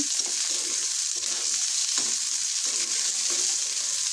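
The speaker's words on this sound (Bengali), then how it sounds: "এখানেই আমি একটা ভাজি বসায় দিব এখন আমি পেঁয়াজ দিয়ে দিলাম" Onions fry in plenty of hot oil, a constant bright sizzling hiss that stays close and even throughout, with faint low bumps from the pan and no voices.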